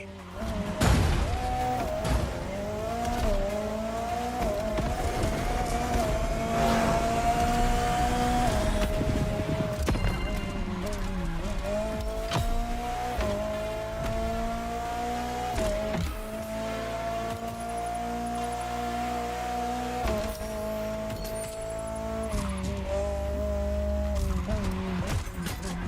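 Ferrari F40 and F50 supercars racing in The Crew Motorfest video game, engines revving and shifting through gears with rising and falling pitch, along with tire squeals and impact thuds, under talk.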